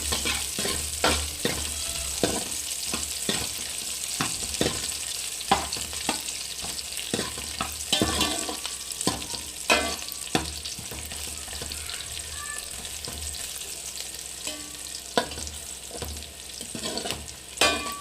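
Onions frying in a pan for a wedding-style vegetable sambar, a steady sizzle broken by repeated sharp scrapes and taps of a spatula stirring, close and fairly loud, with no talk.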